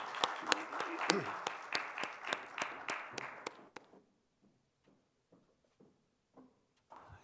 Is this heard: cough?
no